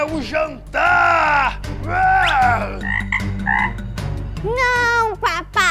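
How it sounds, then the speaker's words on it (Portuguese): Loud, close frog croaks sound in a series of drawn-out, warbling calls with strained, voice-like tones, likely a cartoon frog voiced by a person, ending with a rising squeaky whoop. "Esse sapo não é para comer!"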